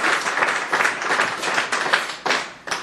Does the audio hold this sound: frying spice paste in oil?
no